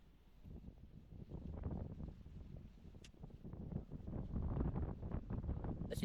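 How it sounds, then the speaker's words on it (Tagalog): Strong wind buffets the microphone outdoors in low, rumbling gusts that rise and fall, growing heavier in the second half, with no voices. "talagang malakas yung hangin"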